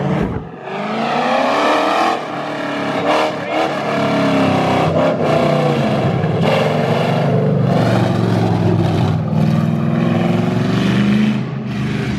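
A V8-swapped Toyota Cressida with loose steering and no alignment does a burnout, its engine roaring loud and close at sustained high revs with rising and falling pitch and tire screech, a voice faintly beneath.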